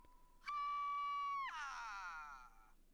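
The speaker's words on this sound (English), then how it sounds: "It was nice to hear that scream again." A cartoon scream from the Adventure Time episode "Come Along with Me", loud and sustained. It holds one steady pitch for about a second, then breaks into a wavering, trailing wail that fades out.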